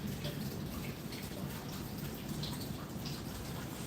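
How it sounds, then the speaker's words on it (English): A small water feature in a shady urban show garden gives a steady, faint trickling and splashing, continuous and soft throughout with no voices. "There's even a water feature here at the back."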